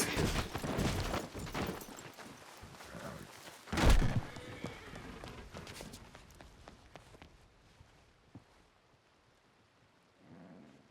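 Neighing horse and hoof clatter in the Red Dead Redemption 2 western game, WildRP roleplay setting, with a loud whinny burst mid-clip over rumbling thunder and rain-like ambience, fading to quieter surroundings.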